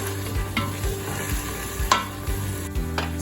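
Food sizzles in a pan as it is stirred after salt is added, with repeated scraping and knocking of the utensil against the pan over a constant frying hiss.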